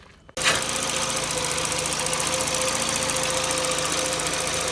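A used VW Jetta engine idles under an open hood, its worn belt tensioner adding a steady rapid ticking rattle over the loud, continuous mechanical drone, heard close up after a brief quiet start, with no talk.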